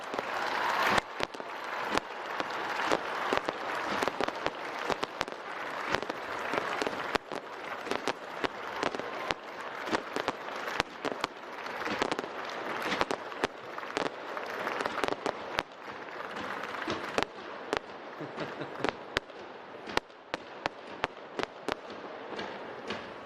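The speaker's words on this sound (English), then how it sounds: "Oh, I love fireworks." Fireworks burst throughout an outdoor university undergraduate commencement ceremony, a dense run of sharp bangs and crackles over a constant roar of crowd noise, loud and continuous with no talking.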